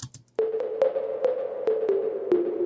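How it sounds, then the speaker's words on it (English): High-pitched 808 trap drum toms hit about seven times in an uneven pattern, each strike leaving a long, washy reverb tail that blurs into a sustained tonal ring. "here's a high 808 toms with a lot of reverb on them"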